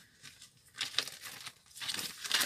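Papers crinkle as a Czech truck driver picks them up, soft close rustling in uneven bursts, a few louder crackles, with no voices.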